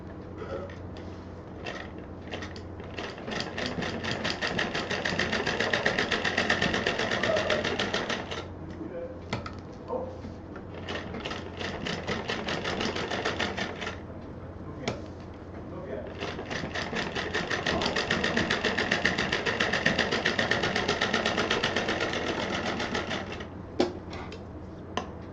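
A sewing machine stitching a straight seam through a quilted purse piece with velcro, running in three long, even bursts of rapid mechanical clatter separated by short pauses.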